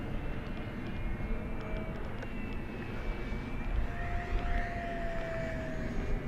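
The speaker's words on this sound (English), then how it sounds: "All right, another high-speed pass down the runway here." An FMS Diamond Hobby Voodoo P-51 RC plane makes a high-speed pass down the runway, its engine whine rising and shifting in pitch as it sweeps by over steady outdoor noise.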